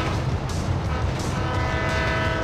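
A loud, sustained train horn in the video game GTA V blares steadily for a couple of seconds over a dense, rumbling engine noise.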